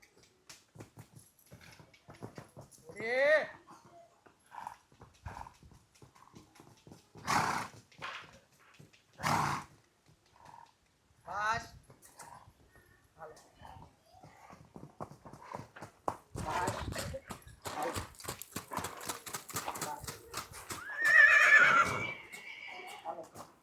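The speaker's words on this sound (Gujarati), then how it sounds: "વાહ ઘોડી વાહ" A mare gives loud whinnying neighs at intervals while hooves clip-clop unevenly nearby, with a voice speaking between the calls.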